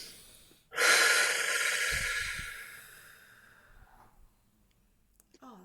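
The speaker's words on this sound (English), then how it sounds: "And just take a deep breath." A single deep inhale rushes in close to the mic and trails off slowly over a few seconds, with no talking.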